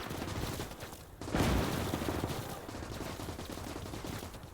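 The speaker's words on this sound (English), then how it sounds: "So they have machine guns all across the hill line." Machine guns rattle nonstop across a World War II battlefield in Gates of Hell: Ostfront, dense overlapping bursts with a heavier blast near the start, steady and moderately distant.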